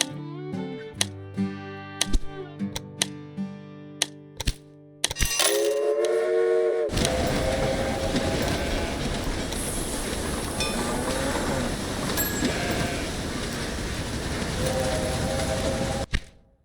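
Locomotive running in the video game Railway Empire: a run of sharp clicks and tones first, then a loud sustained rumble of rolling train with squealing tones over it, ending abruptly.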